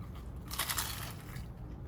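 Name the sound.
crunch of biting into crunchy food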